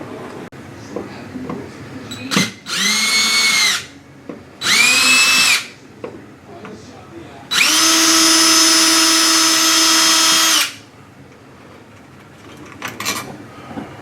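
A power drill driving long screws while installing a dimmer light switch whirs in three bursts, two short and one longer sustained run, with small clicks and handling noises in between.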